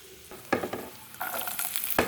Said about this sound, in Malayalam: ഇനി അതേ എണ്ണയിലേക്ക് തന്നെ നമുക്ക് കറിവേപ്പില ചേർത്ത് കൊടുക്കാം